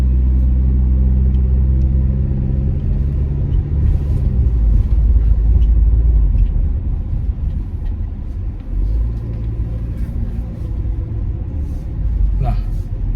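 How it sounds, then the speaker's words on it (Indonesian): A 2022 Toyota Veloz, a front-wheel-drive car, climbs a steep incline with a loud, steady low engine rumble up close, while someone talks over it. "sekarang kita juga akan mencoba untuk naik di tanjakan ini untuk menguji apakah mobil ini bisa naik atau tidak"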